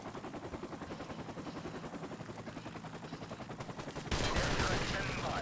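Rapid rhythmic automatic gunfire in Modern Warfare Remastered under a thrumming helicopter, then a louder, denser burst near the end; a voice talks over it.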